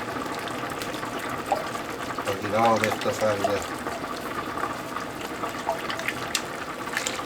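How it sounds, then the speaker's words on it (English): Pasta water is poured into a pot of Haitian Creole-style breakfast spaghetti, a steady liquid gush and splashing that swells briefly midway, with someone talking over it. "I'm putting a little pasta water in this thing too."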